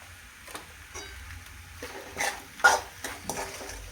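Tomato ketchup stirred into spicy masala cheese pasta cooking in a pan, with soft scraping strokes and a quiet sizzle, a few louder clinks of the spoon against the pan, no talking.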